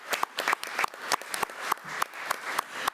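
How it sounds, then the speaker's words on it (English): A school board meeting audience claps for students: a short burst of distinct, fairly sparse handclaps at close range, sharp and uneven, with no voices over it. "Let's give Bells students another round of applause."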